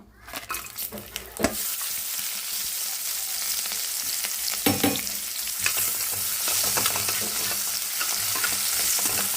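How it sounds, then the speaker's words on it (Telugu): Whole spices fry in hot oil in a kadai for chicken gongura, giving a steady loud sizzle with scraping stirs and a few sharp clinks of the spoon against the pan, with no voices. "కడాయి తీసేసుకొని నూనె అయితే పోసేసాను ఇంకా మసాలా దినుసులు వేసేసుకుందాం"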